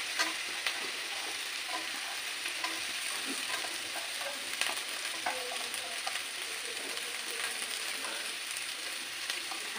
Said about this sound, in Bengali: যখন তোমার ভাজা হয়ে গেছে, এবার আমি বিনস তুলে দেবো।